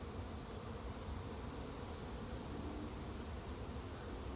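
A honeybee swarm hums as it moves into a swarm trap, a dense, steady buzz of many bees with no pauses, fairly quiet and continuous throughout.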